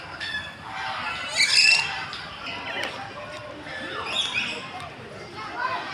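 A pet bird squawks and lets out harsh calls a couple of times at close range, fairly loud over constant background noise, while people talk nearby.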